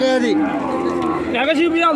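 An Ongole calf at a cattle market moos in a long, wavering bawl lasting about two seconds, loud and close, with a second rising call near the end.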